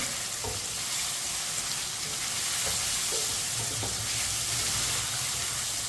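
Chicken and pumpkin curry masala with crushed ginger frying over medium heat, a steady close sizzle broken by scattered scrapes and clinks of a spoon stirring the pan, with no talking.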